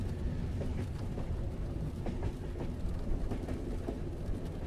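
Steampunk-style train rolling on rails, a continuous dense rumble with faint rhythmic clickety-clack of the wheels, steady and close, with no voices.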